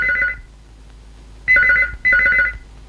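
A telephone rings in a Kannada family film scene, one burst cut off at the start followed by two full electronic rings, loud and close with short gaps and no voices.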